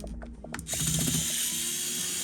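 A screwdriver works on a Lenovo IdeaPad S110 netbook, with a few close clicks and ratcheting ticks followed by a steady whirring mechanical buzz.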